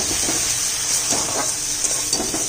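A spice paste fries in a pan with a little added water, giving a loud, continuous sizzle and hiss broken by a few soft stirring scrapes.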